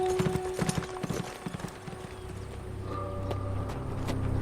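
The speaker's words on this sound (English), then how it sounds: "Prophet touched spurs to Mean's flanks, and the horse trotted southwest along the edge of a shallow," Horse hooves clop in a quick run of knocks early on, then fade as a low rumbling drone rises beneath them.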